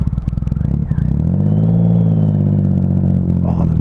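Motorcycle engine revving near the microphone on a feet-forward bike, a rising then settling exhaust note with rattly clatter and a pop, with no talk.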